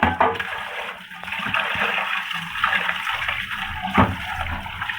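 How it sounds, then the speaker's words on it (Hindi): Running water splashes and gushes steadily from a tap as mutton liver is rinsed under it, a broad noisy wash close by. "अब इसको हम खुले पानी में अच्छी तरह वॉश करेंगे।"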